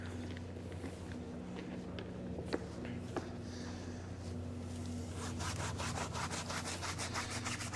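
Brisk back-and-forth scrubbing on the dirty tires of a Kia EV6 during its first wash, rhythmic brushing strokes that grow more regular toward the end, fairly quiet and close.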